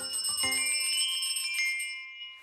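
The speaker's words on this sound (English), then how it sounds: "I can ring my little bell." A little jingle bell rings brightly with several quick shakes, its metallic tones ringing out and slowly decaying to a faint shimmer.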